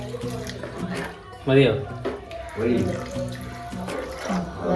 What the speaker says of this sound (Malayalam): ആവശ്യത്തിലുള്ള വെള്ളം ഒഴിച്ചു കൊടുക്കാം.